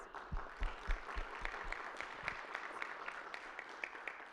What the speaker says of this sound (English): I think this is worth an applaud